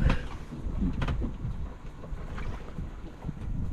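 Strong wind buffets a fishing boat rocking out at sea, a steady roar of gusts blasting across the microphone with hull and water noise underneath, loud and close throughout.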